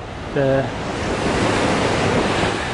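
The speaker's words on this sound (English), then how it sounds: "When I come down to the beach" Steady rushing surf washes in on a Dominican Republic beach with wind noise; a brief voice sounds faintly near the start.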